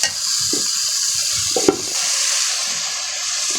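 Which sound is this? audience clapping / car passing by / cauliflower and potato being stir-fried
cauliflower and potato being stir-fried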